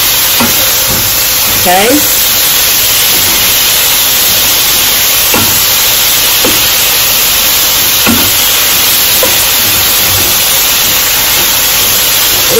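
Strips of pepper steak sizzle and fry loudly with garlic and ginger in a pan, a constant dense hiss with occasional stirring scrapes, and a brief spoken word partway through.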